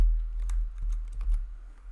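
Keys clack on a computer keyboard as a folder name is typed, a short run of distinct close taps over a low steady hum.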